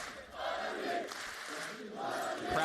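An esports arena crowd roars and chants for Fnatic during a DRX versus Fnatic match. The swelling waves of cheering rise, dip and surge again at a steady moderate distance.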